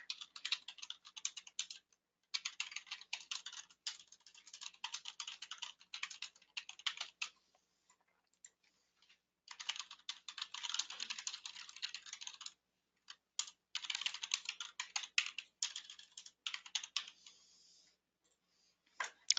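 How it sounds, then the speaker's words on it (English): Fast typing on a computer keyboard comes in several bursts of close, crisp key clicks separated by short silent pauses, recorded quietly and alone. "So here I'm just going to type in some verbiage here."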